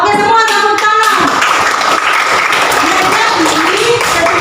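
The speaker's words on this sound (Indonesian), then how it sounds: "Oke, semua tepuk tangan." An audience of students and teachers claps together in a classroom, a dense burst of applause that fills the whole clip with a few voices mixed in.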